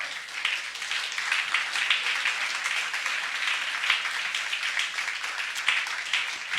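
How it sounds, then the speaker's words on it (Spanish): Church congregation applauding during a Sunday school service, a steady dense wash of many hands clapping for several seconds, moderately loud and even. "Dale ese aplauso al Señor."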